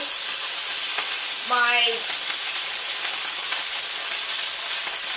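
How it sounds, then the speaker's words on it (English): Water splashed into a hot pan beside a pimento cheese burger, giving a loud, continuous sizzle and steamy hiss throughout, with a brief spoken voice partway in. "I'm just going to add a tad of water to bring that steam up"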